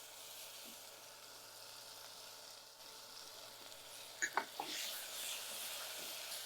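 Chopped tomatoes with mint and coriander sizzle steadily in a pan over lowered heat, a soft continuous frying hiss with a few brief stirring clinks near the end and no talking.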